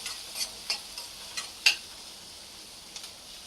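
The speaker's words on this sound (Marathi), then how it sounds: "हा कापून घेतलेला संपूर्ण कांदा आपण आता याच्यामध्ये टाकून घेऊ त्या कांद्याला सॉफ्ट होईपर्यंत आपल्याला शिजवून घ्यायचं आहे" Chopped onion sizzles with cumin in a hot pan, a steady close frying hiss broken by several light stirring clicks and scrapes, with no voices.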